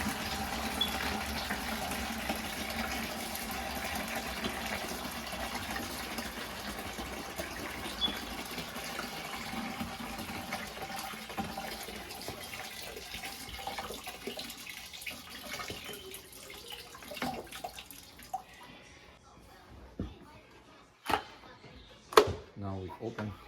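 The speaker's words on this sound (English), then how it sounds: "Now we open the filter, allow it to drain." Water pours and gurgles steadily as it drains out of an aquarium canister filter, then thins out and stops, leaving a few scattered knocks and drips at the end.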